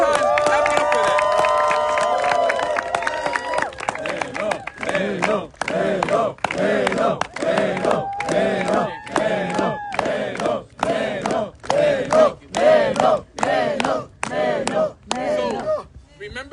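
A crowd at a basketball team training claps in unison, sharp rhythmic claps repeating roughly every second, after an opening burst of shouting and cheering.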